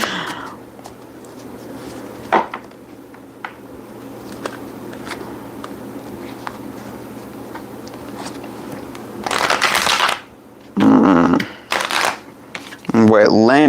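Tarot cards shuffled by hand, with short dry riffling bursts up close, mostly in the last few seconds, after a stretch of quiet room noise and talking.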